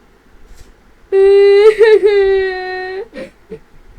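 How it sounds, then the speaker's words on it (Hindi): Someone cries with a loud, wavering, drawn-out wail lasting about two seconds, followed by a couple of short sobbing catches. "अरे किसी के रोने की आवाज आई है।"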